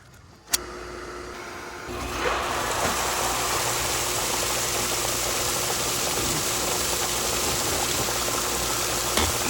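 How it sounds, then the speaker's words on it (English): After a sharp click, a steady rushing flow of draining water starts as a pool DE filter backwashes, flushing used DE from the filter grids out the waste line, loud and close, under a low mechanical hum. "what it's doing is backwashing all of the DE from the filter grids"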